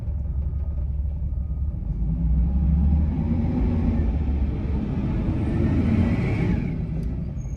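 A car engine idles steadily after a hard start, with oil pressure suspected to be low; a continuous low rumble with slight variation runs throughout, close and fairly loud, with no talking.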